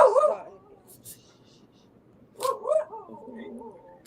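A dog gives short barks and yips, one burst at the start and another a couple of seconds later, close by and moderately loud against a quiet indoor background.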